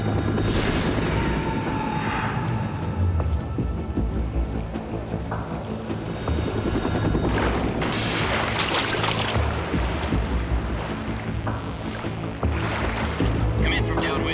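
Helicopter in flight in Metal Gear Solid 2, a steady loud rotor and engine drone filling the whole clip, with a rushing, watery wash over the sea growing noisier partway through.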